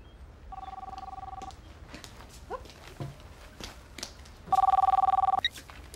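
A telephone rings twice, each ring a loud, buzzing electronic trill lasting about a second, separated by a few seconds of quiet with light background noise.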